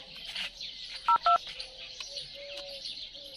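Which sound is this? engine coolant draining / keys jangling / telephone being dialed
telephone being dialed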